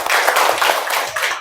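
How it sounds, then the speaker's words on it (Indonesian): A group of children clapping in a classroom, brisk uneven handclaps packed closely together, loud and near, lasting just over a second. "Tepuk tangan Nak."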